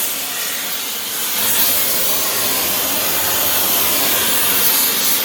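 A torch heats a Sherman tank suspension spring, giving a steady, loud roaring hiss that swells slightly after the first second and holds even and unbroken, with no voices over it.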